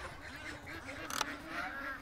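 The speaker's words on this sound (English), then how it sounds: "Oh, the ducks are gonna get loud here." Farmyard ducks quack in short bursts in the background on a rainy morning, a brief sharper call cutting through faint ambient noise.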